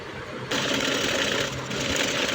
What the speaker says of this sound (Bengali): সেজন্য আমি সাইড করে নিয়ে তারপর কিন্তু পুরো বডিটা আমি সেলাই করে নিচ্ছি।